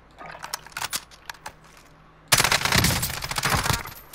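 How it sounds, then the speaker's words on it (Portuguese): Gunfire in Call of Duty: Modern Warfare, scattered single shots and rattles at first, then a dense, loud sustained burst of automatic fire close by, with no voices. "Tá atirando nele, tá atirando nele."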